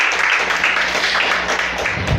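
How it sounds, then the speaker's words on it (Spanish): A church congregation claps loudly and steadily during a Spanish-language sermon, a dense, close wash of applause that fills the whole stretch over a faint low hum. "Denle un fuerte aplauso a Dios si me estoy explicando"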